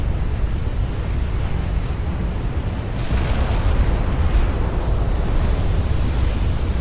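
A warship blows up in Ultimate Admiral: Dreadnoughts as its turrets fly off, heard as a loud, continuous rumbling explosion that swells partway through and roars on like heavy surf.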